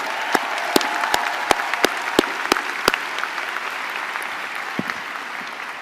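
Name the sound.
audience applause at commencement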